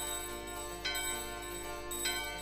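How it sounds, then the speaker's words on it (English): A holy bell rung in the video game Final Fantasy IX: two bright metallic strikes roughly a second apart, each ringing out over a steady background of game music, with no talking. "Let's ring the holy bell."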